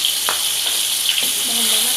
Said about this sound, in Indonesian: Ini bumbunya yang udah kita blender dimasukkan.